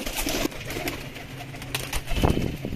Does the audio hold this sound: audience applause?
no